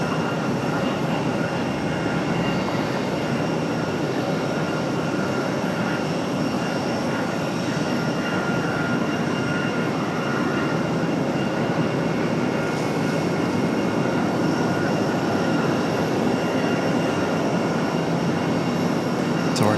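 A Sun Country airliner takes off from runway 23 left at Raleigh-Durham, producing a loud, sustained broadband engine roar that holds steady throughout without any voices.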